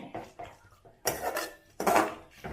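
Tomato masala being mixed in a pot for a Kushka rice dish, a few loud scraping and knocking strokes of a spoon against metal in uneven bursts, no talking.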